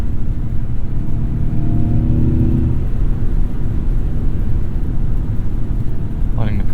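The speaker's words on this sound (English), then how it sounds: "we'll turn on the propulsion sound as well" Synthetic propulsion tone from a Ford F-150 Lightning electric truck in sport mode, a low droning hum with faint rising harmonic whine under steady road rumble, fairly loud and continuous.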